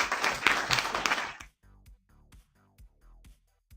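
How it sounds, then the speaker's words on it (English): Applause rises briefly at the start, followed by a few sharp, distinct claps spaced out, close and fairly quiet, with no voices. "I'll give you guys some claps."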